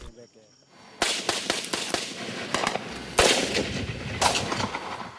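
Gunfire in a gun battle between an armed group and the regular army in Timor: a series of sharp cracks and bursts, some isolated and some heavier, over faint background noise.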